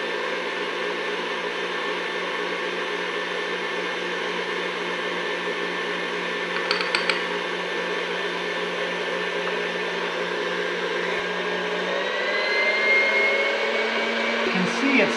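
An electric mixer whips cream with powdered sugar in a kitchen, giving a steady, close motor whir that holds level for about fifteen seconds and rises slightly near the end.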